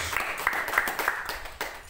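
Church congregation applauding after a sermon prompt, a short burst of scattered clapping at moderate distance, fairly quiet and without voices.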